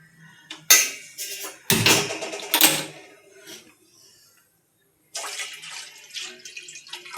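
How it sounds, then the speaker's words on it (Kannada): Water goes into a pan for cooking Maggi noodles in a home kitchen, heard as bursts of splashing and clattering pan noises, close and moderately loud, with a silent gap before more pouring. "ಇವಾಗ ನೀರು ಹಾಕೋಣ ಬನ್ನಿ."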